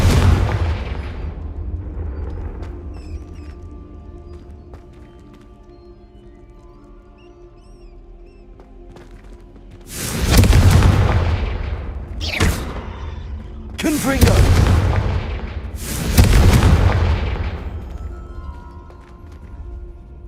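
Explosive blasts from the Confringo fire spell in the Hogwarts Legacy video game: after a quiet stretch, three or four loud, sharp booming bursts land in quick succession, each trailing into a rumbling decay.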